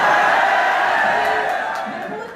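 Sustained applause and some cheering from an audience at an Urdu poetry recitation, a steady, full wash of clapping that slowly fades toward the end.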